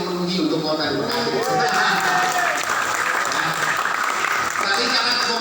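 Audience applause at an Indonesian talk or gathering, dense steady clapping filling the whole stretch at moderate loudness, with faint voices mixed underneath.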